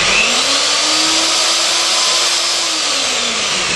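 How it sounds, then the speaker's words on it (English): A professional electric paddle mixer runs steadily at full speed, a loud continuous motor whine with a faint pitch rise then fall, alone with no talk. "that's a professional paddle mixer"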